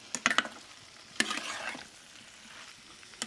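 Spices being stirred into mango pieces frying in a pan for pickle, a few sharp scrapes of a spoon over a soft, steady sizzle, close up with no one speaking.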